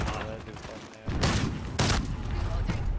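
Two loud shotgun blasts in Call of Duty Modern Warfare multiplayer, booming close shots about a second apart over constant battle noise and a talking player.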